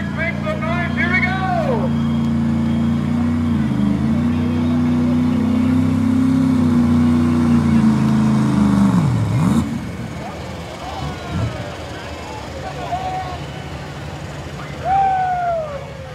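Turbocharged Chevrolet Duramax diesel pro stock truck at a tractor pull, a loud sustained engine drone for about nine seconds that then cuts off, leaving crowd noise and an announcer talking over the fading background.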